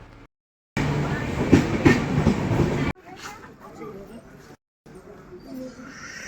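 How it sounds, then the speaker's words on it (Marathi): A train pulls into a station, a loud rumbling roar with rail clatter for a couple of seconds, then fading into quieter station noise with people talking nearby. "आता ट्रेन आली आहे"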